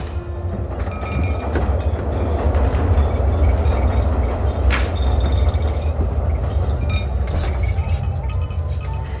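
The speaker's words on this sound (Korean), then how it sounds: "이 장면 뒤로 전철 소리가 지나갑니다" A subway train passes behind a scene in the film Spider-Man 2: loud, continuous rumbling rail noise with metallic clinks and clatter, sustained throughout without fading, and no one speaking.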